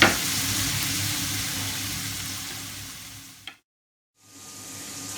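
Chicken manchurian ingredients fry in a pan with a loud, dense sizzle that stays steady for about three and a half seconds, cuts out abruptly into silence, then resumes more faintly.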